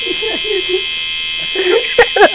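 A steady electric buzz from an overhead light drones loudly and continuously in a room while people talk intermittently over it.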